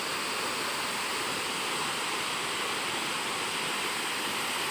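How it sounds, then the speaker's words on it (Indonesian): Syurdori waterfall in Supiori, Papua roars as a dense, constant broadband rush of falling water, loud and close, unbroken for the whole stretch. "Air terjun Syordori."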